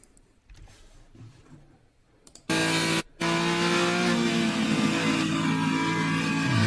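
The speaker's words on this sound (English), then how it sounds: "It is full throttle." A race car at full throttle on the Utah Motorsports Campus track, where quiet rumble gives way to a sudden loud engine roar that stays sustained and high-revving, with a short break for a gear change.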